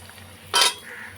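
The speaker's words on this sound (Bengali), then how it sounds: "এগুলোও আমি নেড়ে ছেড়ে ভেজে নেব" A single brief scrape of a utensil against a pan, with a soft sizzle of wheat-flour gulab jamun sweets frying beneath it.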